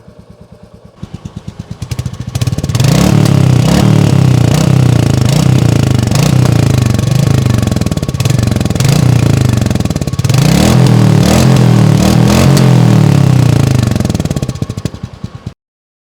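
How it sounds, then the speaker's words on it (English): A 2023 Royal Enfield Meteor 350 motorcycle engine starts up and revs repeatedly in loud, rhythmic pulses close by, holding a throaty exhaust note before cutting off abruptly. "So let's hear the exhaust note right now."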